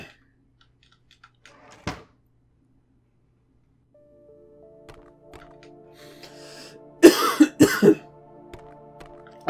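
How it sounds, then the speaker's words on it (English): A person blows their nose in two short, forceful, breathy bursts, close to the mic over a quiet bed of sustained electronic tones. "I just needed to blow my nose."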